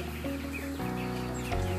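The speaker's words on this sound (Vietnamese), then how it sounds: "hàng nghìn con gà" Chickens cluck on a highland farm in Vietnam that keeps thousands of hens. The calls are steady and moderately loud over a continuous tonal background.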